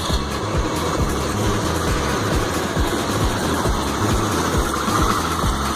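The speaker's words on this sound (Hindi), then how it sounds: "इंजन ऑयल चेंज करने के बाद सबसे पहले थोड़ी देर के लिए स्कूटी को आइडलिंग पे छोड़ दीजिए।" A Hero Pleasure scooter engine idles steadily right after an oil change, a low continuous putter with a regular pulsing beat, close and moderately loud, no talking.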